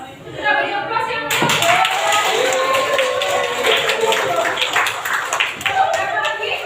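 Applause from students in a classroom, a sustained patter of many hands clapping for several seconds, close and moderately loud, with talk mixed in.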